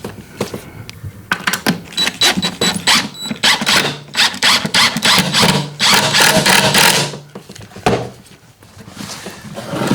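A power drill whirs in short bursts, driving a screw into wood, with clicks and scraping handling noises between the runs.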